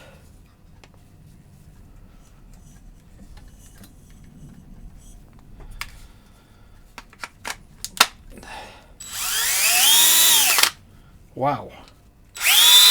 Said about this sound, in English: Get the drilling machine.